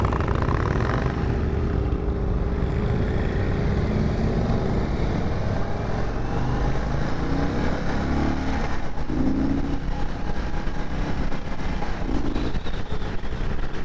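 A 2022 Indian Chief Bobber Dark Horse V-twin motorcycle cruises steadily at highway speed with a deep, continuous rumble and some wind noise, fairly loud and unbroken throughout.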